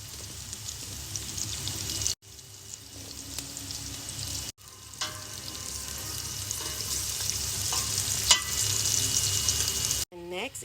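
Onions sautéing in a pan for a soup or niku jaga, a continuous bright sizzle with stirring scrapes, close and fairly steady, broken by a couple of short pauses.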